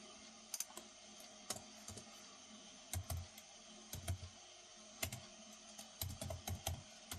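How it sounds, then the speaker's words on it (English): Typing on a computer keyboard: irregular bursts of sharp key clicks, close and fairly clear, with short pauses between runs and a faint steady hum underneath, no voices. "I'm in the middle of typing."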